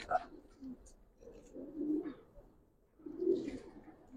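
Giribaz pigeons cooing softly in a few low, repeated bursts, close by, with faint talk and background noise around them.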